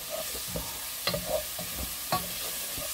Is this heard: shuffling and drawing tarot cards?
no